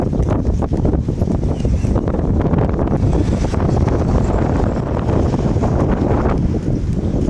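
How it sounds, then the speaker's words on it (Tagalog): Strong wind buffets the microphone in a loud, continuous rumbling roar with gusty fluctuations. "mahangin na naman"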